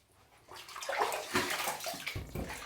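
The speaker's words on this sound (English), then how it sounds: "quite a bit of rinsing to get that slickness off" Water runs and splashes steadily during rinsing, starting quiet and swelling into a close, sloshing flow with uneven surges.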